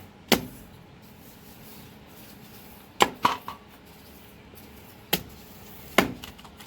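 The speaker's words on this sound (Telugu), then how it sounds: "మనకు కావాల్సినంత సైజు ముక్కలు కొట్టుకోవాలి" Raw mangoes being chopped into pieces for a Telangana ginger mango pickle, five sharp, loud knife strikes spaced irregularly, one landing as a quick double hit, with quiet gaps between and no talking.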